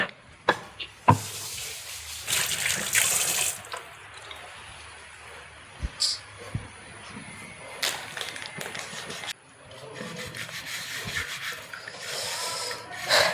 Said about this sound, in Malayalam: ഇത് അപ്പുറം കഴുകാൻ വെച്ച് കത്തി കഴുകട്ടെ